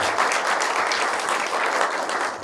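Steady audience applause at a public lecture in Geoje, South Korea, a full crowd clapping continuously and loudly throughout with no voices over it.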